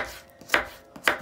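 A knife chops through fresh coconut meat with two sharp, close cuts on a board, spaced about half a second apart.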